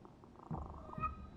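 A cat purrs in the video game The Thaumaturge, a faint, soft, low rumble that swells in short pulses.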